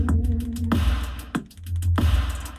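Music plays from a boAt Aavante W Bluetooth soundbar with its bass fully cut, a short loud burst with some low thump still present and a few brief breaks.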